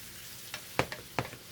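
Chicken marinated in soy sauce, onion powder and smoked paprika cooks in a pan with a faint steady sizzle, broken by a few short sharp pops or stirring clicks.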